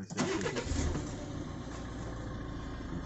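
A used car's engine cranks and catches at a dealership, a brief starter whir settling into a steady close idle, with birds cooing faintly in the background.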